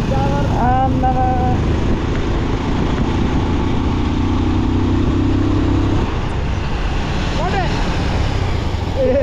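A new motorcycle's engine runs steadily while being ridden on a town road, a continuous loud drone with shifting pitch, and voices sing and chant over it.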